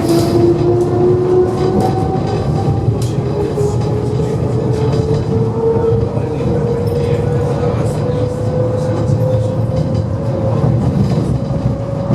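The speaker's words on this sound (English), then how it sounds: "along I go to the S-Bahn, which is a really nice old sounding S-Bahn train" An old S-Bahn train in Berlin rumbles along loudly and steadily, with a rising motor whine and rhythmic wheel clatter over the tracks throughout.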